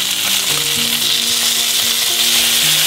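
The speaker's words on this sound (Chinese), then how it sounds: "可以掀开锅盖加一些水" Frozen dumplings (potstickers) frying in a flat pan after water is added, giving a loud, steady, dense sizzle with no break, close up and with no voices.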